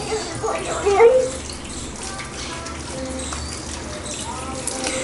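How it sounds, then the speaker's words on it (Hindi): A small syringe squirts water into a medicine bottle, producing a brief splashy gurgle early on, followed by a soft, continuous watery trickle, with faint background voices. "मैंने इंजेक्शन सिरिंज में एक बार में 5 ml पानी भरा और बोतल में 10 ml निशान लगाने के लिए 2 बार बोतल पानी डाला।"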